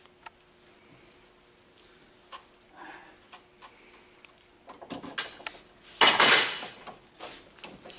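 A metal hose fitting is cranked tight in a bench vise, producing scattered light metallic clinks and ticks that build to a louder clattering burst near the end, with no voices.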